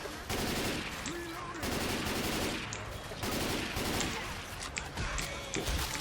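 Dense, loud bursts of automatic gunfire in the zombie shooter Left 4 Dead 2, rapid shots firing in several long volleys across the whole stretch with crashes and game noise mixed in.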